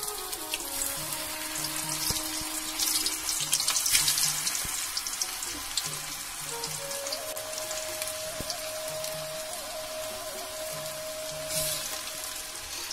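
Patyud, the Uttarakhand hill dish of gram-flour rolls, fries in hot oil with a continuous bubbling sizzle that swells and eases, while a faint tonal hum sits underneath.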